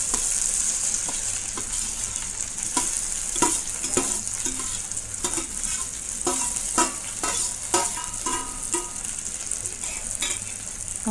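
Okra fries in hot oil with tomato, a steady bright sizzle punctuated by repeated scraping stirs of a spoon in the pan, close and continuous with no talking.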